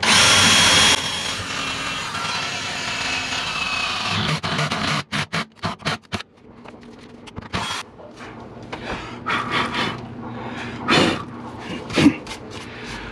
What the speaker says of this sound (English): we're gonna go ahead and just drill a hole in the bottom of the car now